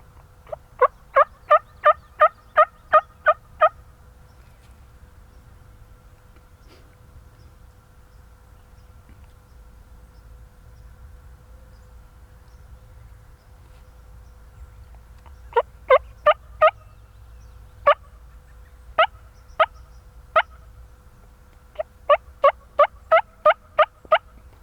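Wild turkeys gobble near a field edge in spring: rapid, loud bursts of gobbling repeated in several rounds, separated by a long quiet stretch with buzzing insects and low outdoor ambience, no talk.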